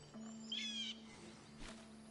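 A bird calls in Baldur's Gate 3: one clear whistled, owl-like note, close and distinct over a quiet game ambience with a low steady hum, followed by a fainter soft rustle.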